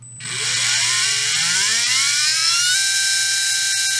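A brushless RC motor spins up with no load, a rising whine that climbs steeply in pitch over about two seconds and then holds a steady, loud, high-pitched tone.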